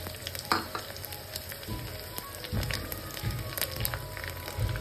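Beans, carrots and other vegetables fry in a pan, a close, crackly sizzle with bursts of popping and stirring scrapes recurring every second or so.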